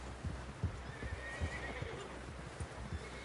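A horse in Red Dead Redemption 2 whinnies against a background of soft, irregular hoof thuds, with a faint steady hum underneath.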